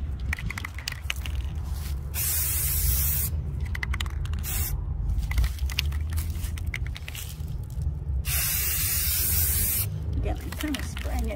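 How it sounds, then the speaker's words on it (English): Spray paint can hissing in bursts onto a glass jar outdoors in a yard, with several sustained sprays separated by short pauses over steady background street noise. "I'm just gonna spray it with this minty blue color."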